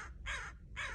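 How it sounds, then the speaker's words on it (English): A crow outside a parked car gives two loud, clear caws a short pause apart, heard from close by with nothing else sounding. "I think there's a crow outside that's after my food."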